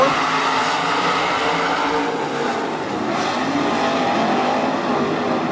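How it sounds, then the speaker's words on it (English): A pack of 305 sprint cars roars steadily at the green flag start of a heat race at Attica Raceway Park, a loud continuous dense engine drone with no gaps and no talking. "Heat race number 2 of 4 goes green out of turn 4"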